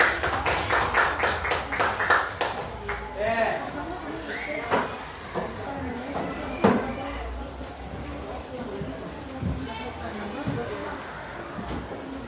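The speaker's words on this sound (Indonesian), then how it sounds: "Beri aplaus untuk temannya yang ambil." Classroom applause for a classmate comes as a burst of quick, close clapping from several students during the first few seconds, then fades to scattered taps, thuds and room noise while a teacher speaks.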